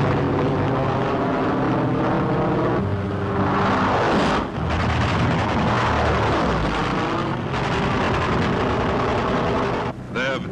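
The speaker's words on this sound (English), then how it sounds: "the Thunderbolts peel off to intercept" P-47 Thunderbolt fighter planes peel off to intercept Messerschmitts and Focke-Wulfs in 1943 wartime footage, a loud continuous roar of engines with swelling passes and shifting pitch, overlaid with a narrating voice.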